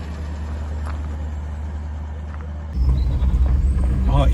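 A 1957 Lincoln Premiere cruising at low speed, its engine giving a steady low rumble that swells louder partway through as the car picks up a little.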